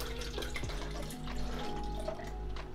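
Tap water runs and trickles into a measuring container while being measured out for mixing C-41 film developing chemicals at home, a steady close pour with small splashy drips over a low hum.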